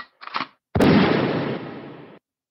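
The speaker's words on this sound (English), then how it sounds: "Gunshots for that." A gunshot sound effect fires as one loud burst that decays over about a second and a half, after two short faint sounds.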